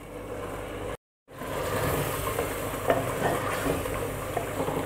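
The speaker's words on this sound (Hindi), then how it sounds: "चिकन को मैं इसमें फ्राई कर रही हूँ।" Boneless chicken pieces frying with spices in a pan for a chicken handi: a steady, close sizzle with stirring scrapes, broken by a brief cut to silence near the start.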